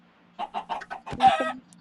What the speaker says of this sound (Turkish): Ulan tavuklarım.